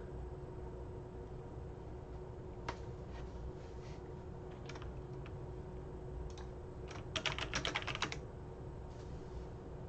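Sparse clicks of typing on a computer keyboard under steady background hiss, ending in a brief quick burst of keystrokes.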